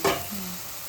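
Onion frying in a pan for homemade dosa batter preparation, a brief stirring scrape followed by a soft sizzle that fades into low steady hiss.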